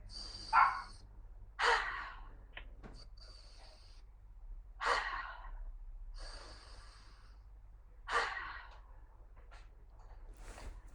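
Deep belly breaths drawn in through the nose during a guided breathing exercise, four slow, fairly loud inhales spaced a few seconds apart over a low steady hum, with no talking.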